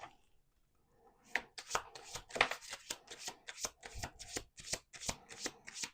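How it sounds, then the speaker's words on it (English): A deck of cards being riffle-shuffled nearby, a quick run of crisp flutters and snaps after a brief quiet start. "Let's do one more shuffle."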